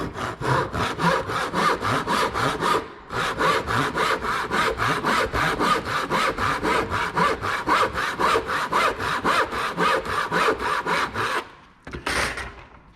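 A hand saw makes relief cuts in wood for a T halving joint, with fast, even back-and-forth rasping strokes repeating steadily and loudly for about eleven seconds, a brief pause near three seconds, and a final short burst.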